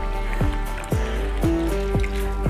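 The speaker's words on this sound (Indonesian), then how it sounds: "Ini akan kita tiriskan dengan meletakkan pada keranjang" Water drips from freshly washed moss set to drain in a basket: five distinct drops fall about half a second apart, each a clear plopping tone, over a low steady background hum.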